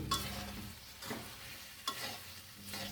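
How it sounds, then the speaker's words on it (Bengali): A spoon stirs karahi chicken curry sprinkled with cumin powder in a pan, with a few scraping strokes and light knocks over a faint sizzle. "এগুলোকে ভালো করে শেষবারের মতো একবার নেড়ে চেড়ে দেবো"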